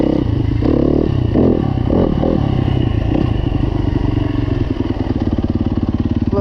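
A Yamaha YZ250F dirt bike fitted with a Rekluse auto clutch and set up for woods riding runs loud and close, its engine revving roughly before settling into a rapid, even idle.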